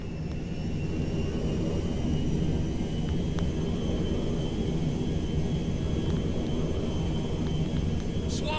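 A steady roaring whir from the Merryweather cargo jet in GTA V holds without a break, loud and even, with a thin high tone running over a dense low rumble.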